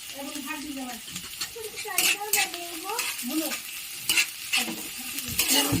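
Onion and green chilli stirred and frying in a pan, with soft sizzling, scraping utensil strokes and a few metallic clinks while a person talks over the cooking.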